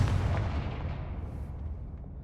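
Confringo fire spell cast in Hogwarts Legacy, a loud booming blast that hits hard at the start and rumbles on in a steady, heavy roar for about two seconds, with no talk over it.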